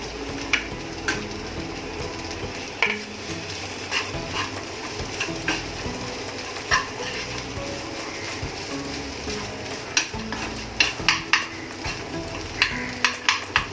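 Potato bhaji with coriander and peanuts is stirred in a pan, giving a continuous soft sizzle with scattered scraping clicks from the spoon, growing busier toward the end.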